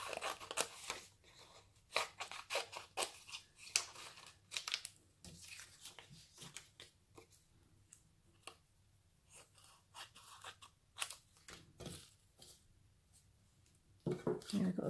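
Scissors snipping out a paper envelope in a crafting session, a run of short crisp clicks and crunching cuts in irregular bursts, close and fairly quiet, with pauses in between and a louder spell of cutting at the very end.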